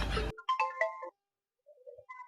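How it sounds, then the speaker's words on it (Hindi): Mobile phone ringtone signalling an incoming call, a short melodic electronic tune of a few bright notes after a brief burst of noise, close and fairly quiet, with a pause before the melody resumes. "या मेहरारू के फोन आवत है"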